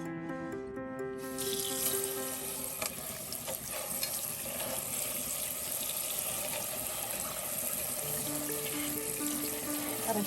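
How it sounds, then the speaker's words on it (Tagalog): Water runs steadily from a tap over chicken liver in a sink, a constant rushing hiss with faint background music and clinking throughout. "So, hugasan natin ulit siya ng tubig."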